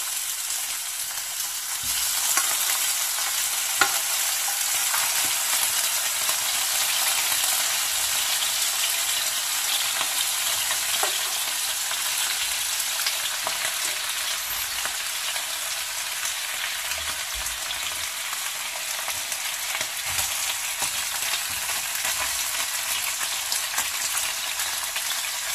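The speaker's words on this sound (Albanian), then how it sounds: "Në një tigan kemi vënë yndyrën të nxehtë dhe vendosim rrisit e kukurecit." Lamb intestines (kukurec) fry in hot fat in a pan, giving a steady, dense sizzle that crackles evenly and close up for the whole stretch, with no voices.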